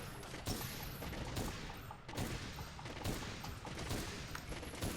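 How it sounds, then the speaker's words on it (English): Bowgun loaded with Pierce ammo fires rapidly in Monster Hunter World, a dense run of sharp shots following one another over steady game noise, loud and close throughout. "we'll switch back over to the Pierce ammo. And we'll just keep shooting them"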